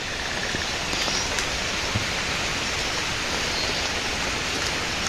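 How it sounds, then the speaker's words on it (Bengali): Steady, dense rainfall pours down in a continuous broadband hiss, heavy and unbroken throughout, with no voices. "বেশি বৃষ্টি নামতেছে বাড়ি চলো"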